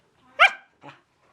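A dog gives one sharp, loud bark and then a shorter, softer second bark, both close by in an otherwise quiet room with no speech.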